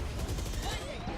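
Rapid gunfire bursts in the tactical shooter Valorant, dense overlapping shots running steadily through a short stretch of game audio, with voices talking over it.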